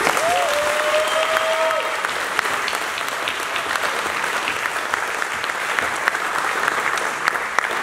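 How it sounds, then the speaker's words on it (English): Sustained applause fills a room at a school athletic banquet, a steady crowd of clapping hands with no talk over it, lasting throughout at a constant level. "Give him a round of applause."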